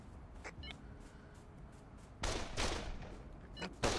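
Gunfire rings out in the multiplayer game Project Winter: a few sharp, loud shots at close range punctuate a quieter background with faint voices.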